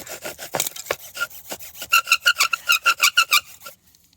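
A bow drill set spinning a wooden spindle against a fireboard to make fire, close rough rubbing strokes that settle into a fast, even back-and-forth rasping rhythm before stopping abruptly.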